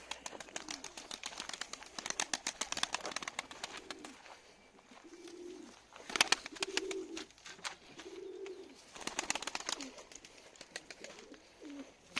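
Young pigeons about four to five months old coo softly and repeatedly inside a loft, their low rolling calls rising and falling under a busy background of chirps and clicks.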